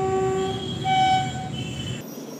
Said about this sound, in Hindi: फिर एक ट्रेन आपकी आ गई